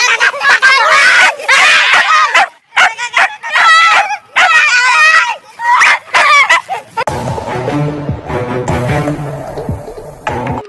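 A dog on a farm yelps, whimpers and barks loudly in strained, howling bursts separated by short pauses, followed by a denser stretch of music and voices.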